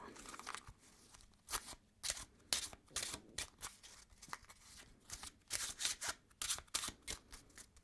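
Playing cards shuffled by hand in a quiet room, a close, crisp riffle with repeated bursts of flicking and snapping cards in an uneven rhythm, soft and intimate with no talking.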